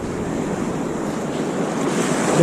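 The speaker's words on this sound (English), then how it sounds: "The waves here." Ocean waves break and foam along the shore in steady, loud surf with a continuous wash of white water and wind buffeting the microphone, swelling slightly toward the end.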